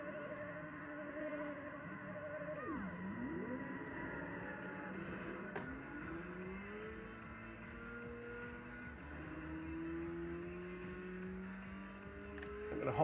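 A race car engine revs and shifts through gears in the Dead Heat upright arcade racing game, its whine climbing and dropping in pitch at moderate volume over faint cabinet noise, with no speech.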